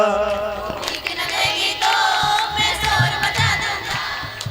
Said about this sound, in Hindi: एक बार कह दो जय माता की